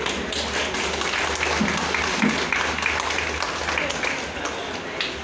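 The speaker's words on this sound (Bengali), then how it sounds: "সবাই এখানে একবার একটু হাততালি দেবে" Applause from a small gathering at the opening of an LIC insurance office in Parulia market, Purbasthali, a steady patter of hand claps filling the whole stretch with people talking underneath.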